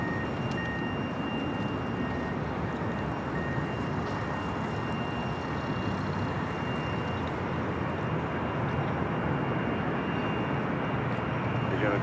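An Austrian Airlines Boeing 777-200ER in Johann Strauss livery arrives at LAX, a steady, loud engine roar and broadband rumble holding throughout, with a commentator talking over it.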